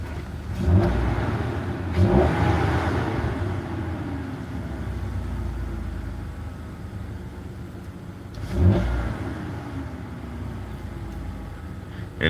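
A 2004 BMW E46 engine, just fixed with a new grommet, idles and then revs sharply several times in spaced bursts, close up and steady between the blips, with no talking.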